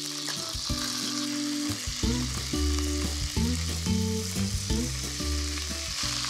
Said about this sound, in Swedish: Jag steker min kycklinglår i en gryta.